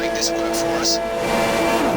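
Race car engines in the F1 2015 video game drone in a steady, layered roar with sharp whooshing bursts at the race start in Brazil, and a voice talks over them.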